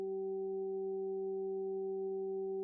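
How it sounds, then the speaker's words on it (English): A 768 Hz solfeggio sine tone holds completely steady and unchanging throughout. It is a smooth, pure hum with no other sounds and no voices. "768 hertz. These are healing solfeggio frequencies."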